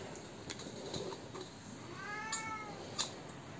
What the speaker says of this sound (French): Là, les chats sont en train de s'énerver.